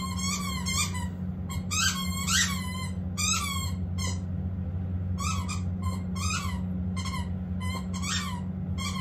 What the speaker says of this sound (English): Take it easy, squeak toy.